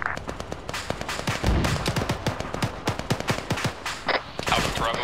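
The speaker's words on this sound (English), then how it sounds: "We got mortars firing out of the compound." Mortars and small arms firing in ArmA 3, a dense rattle of sharp reports with a deeper thump near the middle, close and loud, alone without talk.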